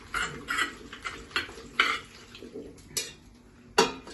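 Ceramic utensils clinking and scraping as pasta is tossed with tuna sauce in a Deruta Maiolica bowl, a series of light, close clatters spaced about every half second with no talk.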